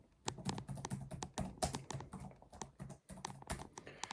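Typing on a computer keyboard with one hand: irregular clusters of close, crisp key clicks with short pauses between bursts, fairly quiet.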